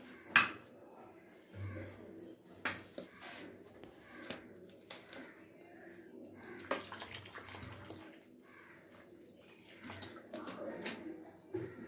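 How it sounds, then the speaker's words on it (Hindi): Water poured into a bread chilla batter in a bowl, with scattered clinks of a spoon against the dish and brief splashing stirs, fairly quiet and close with room noise between the knocks. "अब हम इसमें डालेंगे थोड़ा सा पानी जो कि इसका पतला सा बैटर रेडी हो जाए"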